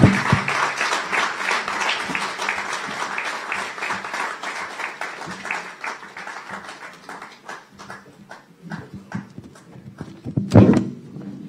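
Lecture audience applauding after a public Constitution Day talk, a full burst of clapping that slowly thins into scattered claps before a brief loud bump near the end.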